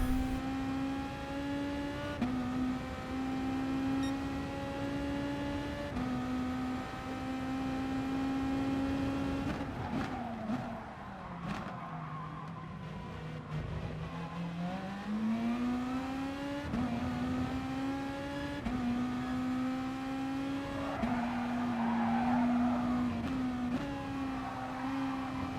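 A Volkswagen Beetle race car in a video game race at Dragon Trail Gardens, a steady engine whine that holds pitch, dips on deceleration, then revs back up through gear changes, heard close with no talking.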